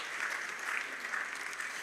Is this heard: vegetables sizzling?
no